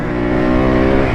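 A Yamaha YZ125 two-stroke supermoto revs hard with its rear wheel spinning off-road, a loud, close, sustained buzzing engine note with no talking.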